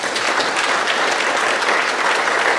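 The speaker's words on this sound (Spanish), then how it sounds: "Dar un aplauso a nuestros jueces y a nuestras juezas de la Corte de la" A courtroom audience applauding the judges of the Central Jungle Superior Court, with dense, steady clapping from many hands, close and loud, that runs unbroken and then stops abruptly.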